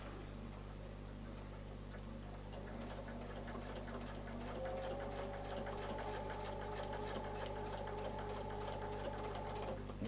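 Sewing machine stitching a curved circular line, quiet and close, with a steady mechanical hum and a fast ticking stitch rhythm that speeds up partway through.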